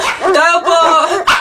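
A dog barking at night, close and loud, gives a few yelping, whining barks in quick succession with short pauses between them.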